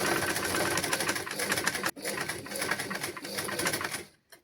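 A sewing machine stitches a children's garment in a basic tailoring lesson, running steadily and close with a rapid mechanical whir, pausing briefly midway before resuming and then stopping.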